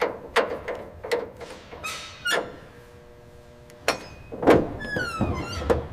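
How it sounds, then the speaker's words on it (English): A door on a restored 1967 Ford Mustang Fastback is opened and shut several times, giving sharp thunks and latch clicks with squeaks in between, close up and without talk. "The door closes correctly."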